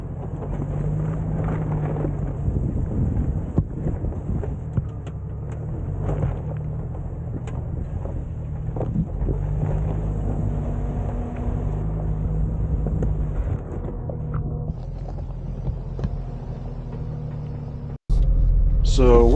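A car drives along a road with a steady low engine and road rumble throughout, broken near the end by an abrupt jolt and a louder roar.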